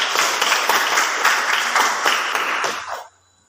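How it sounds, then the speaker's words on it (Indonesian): Classroom applause from a group of students, brisk and fairly close, clapping steadily for about three seconds before stopping abruptly into near silence. "Tepuk tangan buat si Rakel."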